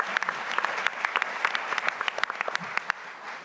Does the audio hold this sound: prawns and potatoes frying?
no